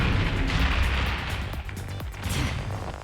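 Grenade blast in the action game ANNO: Mutationem, a loud dense burst of booming explosion noise with crackling debris sustained across the moment amid busy combat effects.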